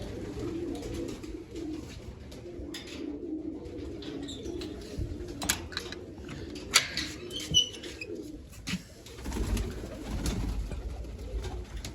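Several Sar-Far pigeons coo in a rolling low chorus for a long stretch, with occasional sharp clicks and a brief flurry of wingbeats partway through, all nearby and fairly steady in level.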